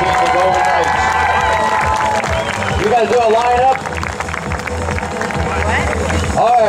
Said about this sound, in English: How about a nice round of applause for the United States Army Parachute Team